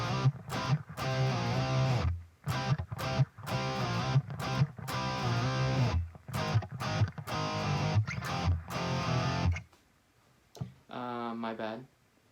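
Electric guitar playing a chunky, distorted power chord riff in short repeated bursts separated by brief gaps, loud and close, ending with a few quieter picked notes.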